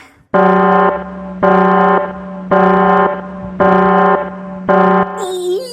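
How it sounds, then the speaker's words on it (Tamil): A buzzing cartoon alarm rings in five evenly spaced bursts, loud and tonal, followed by a short warbling sound at the end. "ஏன் அலாரம் அடிக்கானுவா?"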